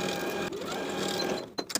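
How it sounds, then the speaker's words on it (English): A sewing machine stitches a pocket seam on shorts with a 3/8 inch seam allowance. A close, rapid mechanical whir runs steadily, then cuts off near the end with a couple of sharp clicks. "Sew with a 3/8 inch seam allowance."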